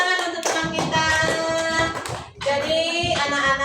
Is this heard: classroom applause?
yes